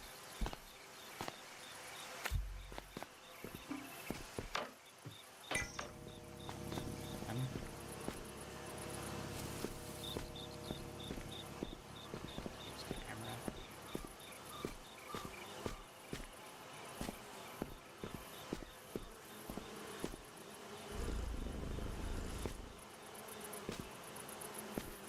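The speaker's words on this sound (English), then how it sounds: "Sounds like bugs. Flies buzzing." Insects and flies buzzing in the video game Viewfinder, a faint, wavering drone mixed with scattered clicks and footstep-like thuds over a long stretch, quiet and somewhat distant.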